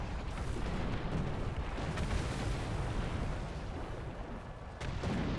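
A tank shell impact and gunfire in the War Thunder video game, with Soviet SMK and KV-1E tanks, heard as a dense, fairly quiet rumble of booms and bursts with a sharp blast near the end.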